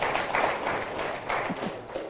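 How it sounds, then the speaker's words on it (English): An audience at a public people's parliament debate on farming in Ntungamo district claps for itself, uneven scattered hand claps of moderate loudness that continue throughout. "Can you clap for yourself?"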